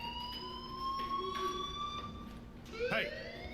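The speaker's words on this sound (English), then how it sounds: "do you hear that fire alarm?" A fire alarm rings in the video game Life Is Strange, a sustained electronic tone with harmonics droning steadily at moderate volume, with a brief louder electronic blip near the end.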